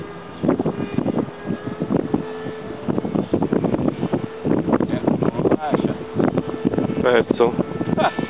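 Strong gusty wind buffets the microphone at an outdoor field where a radio-controlled AMX model jet is being flown, with irregular rumbling bursts throughout and someone talking over them.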